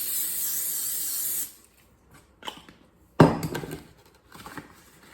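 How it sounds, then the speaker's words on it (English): Cooking spray sprayed onto a cookie sheet: a steady, close hiss for about a second and a half, then stops, followed by a few light clatters and a sharper knock as the pan is handled. "we need to spray this cookie sheet"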